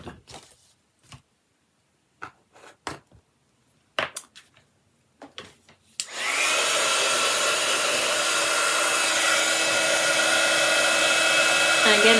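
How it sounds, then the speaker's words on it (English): An embossing heat tool switches on after several light taps and clicks, then blows a loud, steady hot-air roar for the rest of the stretch. "the reason I heat from underneath is to put that barrier between the air that blows out of your heat tool and that embossing powder"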